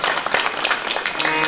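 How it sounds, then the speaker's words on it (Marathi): An audience at a Marathi kirtan breaks into brief, lively clapping, a short burst of close, busy applause. "त्यांच्यासाठी एकदा जोरात टाळी वाजवा."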